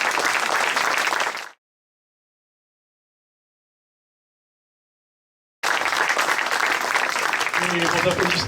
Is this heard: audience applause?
yes